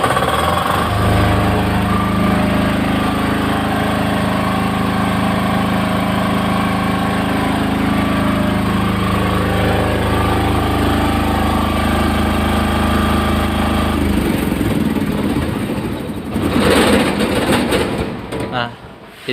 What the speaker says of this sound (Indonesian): itu yang manual, jadi buat manasin mesin ya